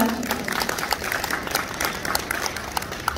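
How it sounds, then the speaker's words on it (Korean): Audience applause at a book launch event, a moderately loud crowd clapping steadily with scattered sharper claps standing out. "여러분 다시 한번 박수 부탁드립니다"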